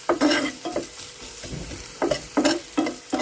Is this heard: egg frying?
yes